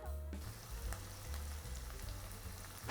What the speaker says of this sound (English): After stir-frying for about 1 minute, the meat and miso is done.